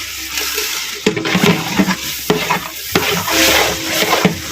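Vegetables and a kilo of chopped tomatoes sauté in hot oil for a Karaikudi Chettinad vegetable biryani, with a steady close sizzle broken by several sharp spoon scrapes and stirs against the pot.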